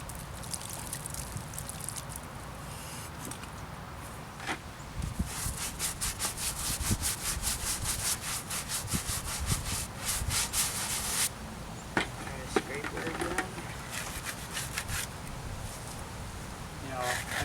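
A tool scrapes steadily at the carved lettering of an 1884 marble headstone during cleaning, producing repeated close rubbing strokes over a constant background hiss.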